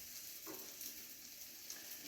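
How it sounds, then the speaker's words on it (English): Tuna fritters sizzle steadily in a frying pan, a soft, continuous hiss of hot oil with no talking. "Okay, these are sizzling quite nicely."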